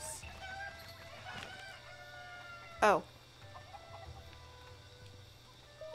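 Cuckoo chickens cluck and squawk in Zelda: Breath of the Wild, with one sharp loud cry midway over steady game ambience and faint clucking, plus a brief spoken exclamation.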